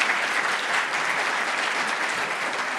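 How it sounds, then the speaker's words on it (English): A conference audience applauds the panelists at a bank capital framework event, with continuous, even clapping from a room full of people lasting the whole stretch. "please join me in giving a round of applause to these panelists."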